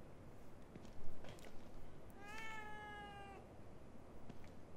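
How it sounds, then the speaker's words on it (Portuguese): A cat meows once in the survival horror game The Evil Within 2, a drawn-out, clear, slightly falling cry that stands out over a low ambient bed, with faint thumps before it. "Um gato. Eu não me lembro de ter um gato."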